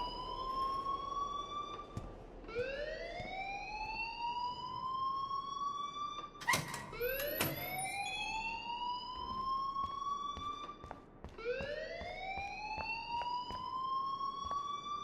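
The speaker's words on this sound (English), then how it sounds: "please turn off that alarm since that's your job" A fire alarm in the video game Life Is Strange sounds as a loud, wavering siren in repeated rising sweeps, each climbing then holding, about every four to five seconds, with a few sharp clicks between and no talk.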